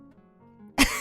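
A single short cough from a woman with a cold, sudden and close after near silence, loud and alone.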